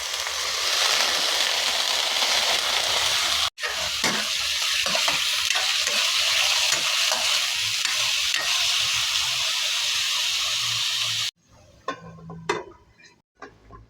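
Ampalaya (bitter gourd) stir-fried with sautéed onion in a pan, a loud steady sizzle with scraping stir strokes throughout, a brief break midway, then quieter clinks and stirring near the end.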